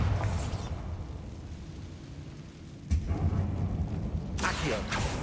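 Bombarda blasting spells from Hogwarts Legacy go off as rumbling, thunder-like booms, a sudden burst near the middle and another swell near the end over a continuous low game rumble.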